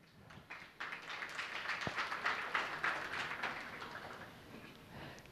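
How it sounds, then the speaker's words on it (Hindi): An audience claps together during a religious pravachan sermon by Viksant Sagar Ji Maharaj, the applause swelling after a second, holding steady for several seconds, then thinning out. "तो ताली बजा लोग कम से कम"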